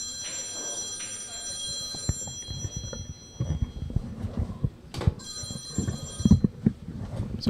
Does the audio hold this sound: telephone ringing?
yes